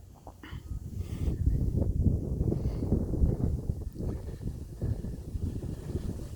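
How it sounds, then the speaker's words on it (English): Wind gusts steadily across an outdoor park lake where kayaks are out, a broad rumbling buffet against the microphone that holds fairly loud throughout, with no voices. "the wind was trying to blow me off this thing"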